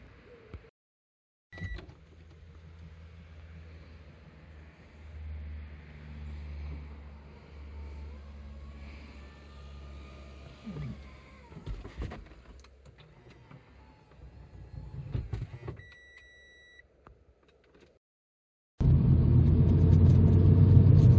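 A 2012 Mazda MX-5 2.0 Sport roadster driving, a low steady engine rumble with road noise and occasional ticks, ending in a sudden louder burst.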